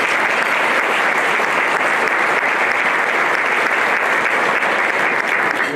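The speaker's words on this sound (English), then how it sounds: "We can definitely clap for that." A breakfast audience claps steadily and loudly for the whole stretch, a dense even wash of many hands with no voices over it.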